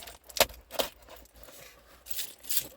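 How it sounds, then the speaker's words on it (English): A set of keys jangles in several brief metallic bursts as it is set down on a surface, close and crisp against near silence. "I've got to put my keys down."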